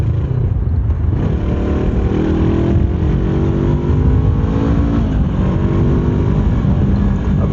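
A Honda CBR 500R motorcycle is ridden, its engine loud and close with wind rush, rising and falling through gears in repeated revving climbs.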